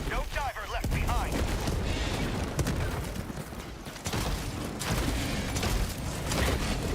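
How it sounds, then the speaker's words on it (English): Grenade blasts and rapid gunfire in the video game Helldivers 2, dense continuous booms and shots layered under a voice talking over the battle. "Throwing grenade."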